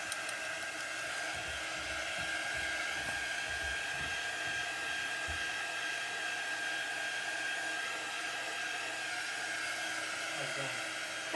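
A hair dryer blows continuously at a steady whine and rush, drying chalk paste on a door tag, with a few soft handling bumps early on.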